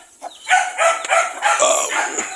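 Several chickens cluck and squawk close by in quick, uneven bursts, a busy flurry of bird calls with no talking.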